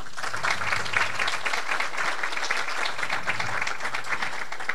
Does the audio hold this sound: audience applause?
yes